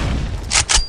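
Two quick, loud bursts go off in close succession in the online shooter Combat Arms, grenade blasts over a background of game noise.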